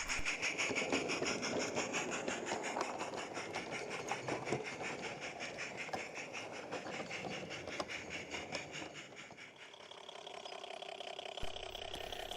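A narrow-gauge light railway passenger train arriving at Beeston Castle station, a continuous rumbling and rolling drone with rhythmic clanks and squeals that eases off toward the end as it slows, moderately loud, no voices.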